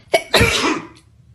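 One quick human sneeze, a short intake followed by a sharp burst that fades within a second, close and fairly loud, standing alone.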